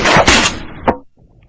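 Cannon firing a projectile into storm shutters and plywood in an impact test: a loud, sharp blast burst followed by a second crack and a short impact, then near silence with faint background noise.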